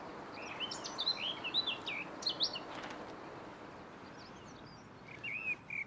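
Blackcaps, many males singing together, give faint, distant warbling phrases in short bursts over quiet background hiss.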